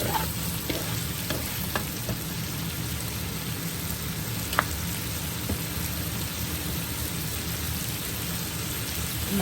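Fried shrimp and ground pepper go into a hot pan, giving a steady, dense sizzle with scattered crackles and a few stirring clicks, loud and close with no talk over it.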